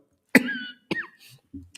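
Two sharp, close coughs in quick succession, followed by a softer, short throaty sound at the end.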